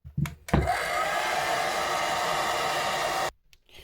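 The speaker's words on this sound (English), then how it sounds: "when you use the hairdryer, you need to try and heat it uniformly" A couple of handling clunks, then a hair dryer heating a Samsung S21 FE phone's back cover blows with a steady whooshing hum for about three seconds before switching off.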